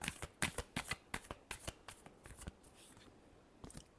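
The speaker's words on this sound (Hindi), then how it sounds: "last shuffle" A deck of tarot cards being shuffled up close, a quick run of crisp riffling snaps and flutters that thins out toward the end, with no talking.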